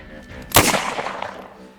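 A single sharp gunshot cracks out at a target at close range, fired from a cowboy-style standing stance, followed by a short decaying echo.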